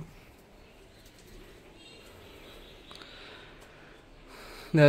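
Pet birds in an indoor cage softly cooing and shuffling as they come down to eat, faint and intermittent, with a sudden louder rustle or burst right at the end.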